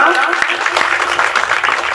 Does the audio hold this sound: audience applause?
yes